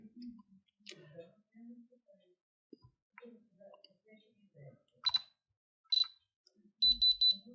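Short high electronic beeps from a DIAMOND SELECTOR 2 diamond tester testing a diamond sound in a few bursts, the last a rapid series, amid quiet handling noises and brief speech.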